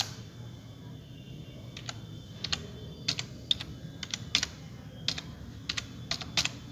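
Fingers type on a computer keyboard while filling in an email address, sparse clusters of crisp key clicks coming in short bursts over a quiet hum of the room.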